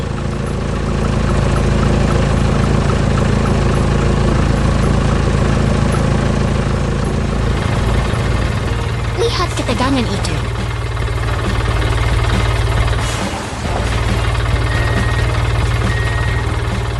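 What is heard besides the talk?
excavator and dump truck engines in 3D animation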